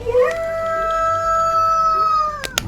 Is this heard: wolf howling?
yes